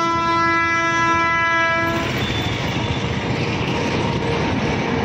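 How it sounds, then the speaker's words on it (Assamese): A train sounds a long, loud horn blast at close range, which then gives way to the heavy, continuous rumble and rattle of the railcars rolling past. "এইখন ট্ৰেইন বঢ়িয়াকৈ যাই আছে"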